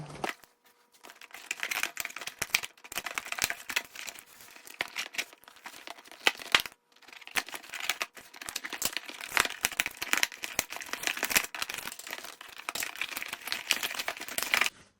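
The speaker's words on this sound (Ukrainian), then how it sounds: "Ось скотчі тут цих порозкривати." Tape is torn and peeled from Barbie Holiday 2016 doll packaging, with dense crinkling, ripping and crackling of plastic and cardboard in close, irregular bursts.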